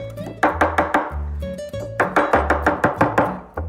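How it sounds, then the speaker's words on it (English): Parsley is coarsely and quickly chopped with a knife on a cutting board, a fast run of about fifteen sharp, close, rhythmic thuds in two bursts. "No, coarsely chopped, fast chopping."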